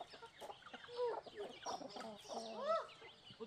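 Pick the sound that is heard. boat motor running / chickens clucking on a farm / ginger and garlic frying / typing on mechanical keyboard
chickens clucking on a farm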